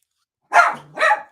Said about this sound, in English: You dogs, be quiet.